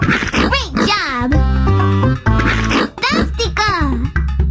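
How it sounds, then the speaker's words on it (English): A toy baby pig from a Dora the Explorer farm playset gives repeated squealing oinks in close succession, loud and near, with a high childlike character voice mixed into the sounds. "There's a baby pig."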